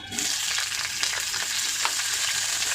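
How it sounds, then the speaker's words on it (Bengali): Yardlong beans fry in hot oil with a loud, steady sizzle and crackle, close up, with occasional spits and pops and no talking. "তেলটা গরম হয়ে গেছে, বরবটিটাকে আগে ভেজে নেবো।"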